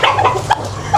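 Gamefowl chickens cluck at a breeding farm. Several short, close clucks come in an uneven run, with no talk.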